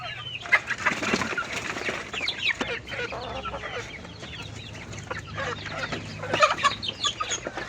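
Chickens being fed on a small farm cluck and squawk nearby in irregular bursts, with occasional wing flaps and louder calls near the end, with no talking.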